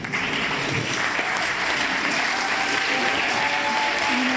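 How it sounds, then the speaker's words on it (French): Steady applause from an audience at a live event in an entrepôt venue, dense clapping filling the whole stretch without pause, fairly close and loud. "On peut déjà les applaudir bien fort,"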